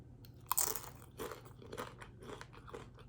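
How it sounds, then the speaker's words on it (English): Loud, close crunching of crisp Doritos chips being chewed, with irregular bites and crackling munches repeating over a few seconds. "I know that I'm a loud chewer,"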